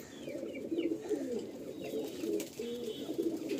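Pigeons coo softly in a loft, repeated low throaty coos in an even rhythm, faint and fairly close, with no talk over them.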